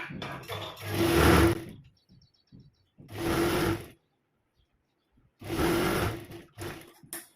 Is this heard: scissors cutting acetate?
no